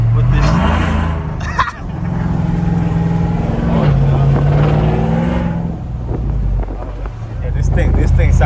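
A modded race truck with a 5.3 engine and full bolt-on cam spins donuts, its loud engine roaring close by with revs rising and falling and wind buffeting the microphone.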